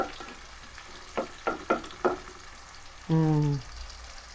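Shallots for a Madurai-style chicken curry sizzle in hot oil, a quiet steady fry broken by a few sharp stirring knocks and a brief tonal clang near the end.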